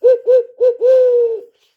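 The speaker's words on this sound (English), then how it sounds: "Here's the owl hoot." An owl hoot locator call used for wild turkey hunting gives three short, loud hoots and then one long drawn-out hoot, sounding close and clear against silence.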